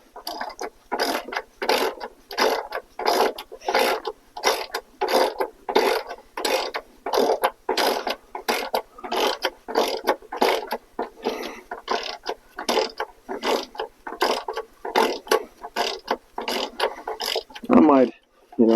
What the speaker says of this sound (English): I got the Manuel ratchet.